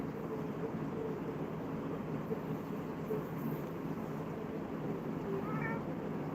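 A cat gives a faint, short meow near the end, barely rising above a steady, low background rumble that fills the rest of the stretch.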